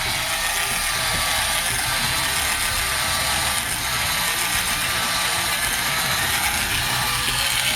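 A motorized Transformers G1 Encore Sky Lynx toy walks, giving a continuous loud whirring, ratcheting gear noise that runs steadily and alone with no talking.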